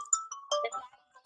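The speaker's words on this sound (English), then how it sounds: "It's a phone ringing." A quiet electronic ringtone chimes a short melodic phrase of bright tones, fairly faint with no voices.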